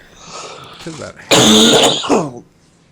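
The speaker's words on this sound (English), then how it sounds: "that cough that won't go away." A single loud, rough cough bursts out close by, bracketed by a moment of talking.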